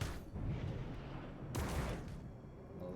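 Gunfire in the Battlescape space game tears into turrets: dense, rumbling bursts of shots, with a sharp, loud blast surging midway and heavy firing continuing after it.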